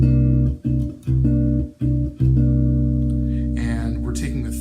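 Eight-string guitar in drop E tuning strumming a dominant ninth chord, several sharp rhythmic strums with brief gaps, then a final chord ringing out and slowly decaying, close and fairly loud.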